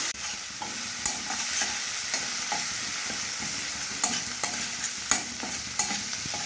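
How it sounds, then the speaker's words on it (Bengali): A spice masala with tomato and salt is being fried for a fish curry of snakehead and featherback fish, giving a continuous soft sizzle broken by spoon stirs and scrapes against the pan, close up with no talking. "মশলা কষানো হয়ে গেছে"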